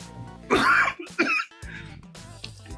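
Two or three harsh coughs close to the microphone, followed by throat clearing and a quieter murmur.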